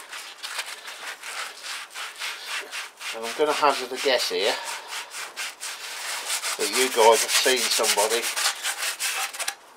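Steady, rhythmic rubbing of light sandpaper over a part being prepped for black paint, continuing throughout while someone talks over the middle and later stretches.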